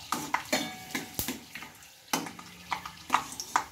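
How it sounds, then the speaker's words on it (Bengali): Chillies and peanuts fry in a pan, with a soft sizzle broken by repeated close scrapes and clinks as the spoon stirs them in an uneven rhythm. "লঙ্কা বাদামটা ভেজে নেব।"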